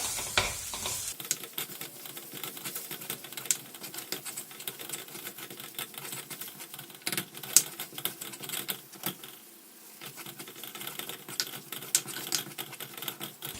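Spice powders sautéing in oil over a low flame for a Kerala fish curry, a soft continuous sizzle with light crackles and occasional spoon scrapes, close up and steady, with no voices.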